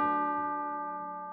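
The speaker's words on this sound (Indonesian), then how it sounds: "Jam 12 dia dengar bel." A single bell rings at twelve o'clock, one clear struck tone that rings on and slowly fades, alone with no voices.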